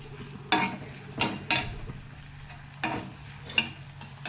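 Cumin, onions and green chillies temper in hot oil with a soft, quiet sizzle, broken by several sharp spoon scrapes and clinks against the pan at irregular intervals.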